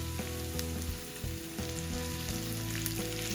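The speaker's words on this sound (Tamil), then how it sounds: "இந்த வெங்காயத்தை நாங்கள் நல்லா வதங்க விடுவோம்" Chopped onions sauté in a pan for a homemade curry, giving a steady, close sizzle and crackle that runs unbroken throughout, with a few soft stirring bumps and no voices.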